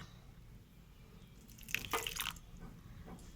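Water is poured in small amounts onto dough in a bowl, a brief soft splash and trickle over a quiet hiss of background noise.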